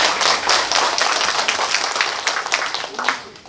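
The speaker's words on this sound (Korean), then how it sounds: "수고해 주신 구자인 박사님에게 다시 한번 큰 박수 부탁드리겠습니다." Applause from a forum audience, a steady dense wash of clapping that holds at an even level for the whole stretch with no voices over it.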